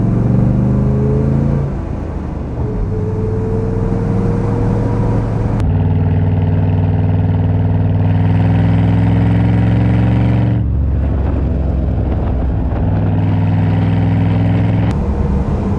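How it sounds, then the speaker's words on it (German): A 1966 Iso Grifo 300 GL, a restored classic, drives under load with its engine loud and close, steady harmonic tones rising through the gears with clear shifts and renewed pulls, and no talk over it. "ich genieße das, diesen Wagen zu fahren"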